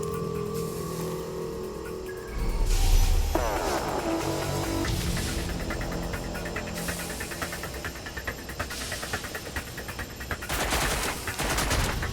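Gunfire in the video game Watch Dogs Legion, a dense busy mix of shots and bursts over a constant humming game background, with a loud thump near the start and a sharper volley toward the end.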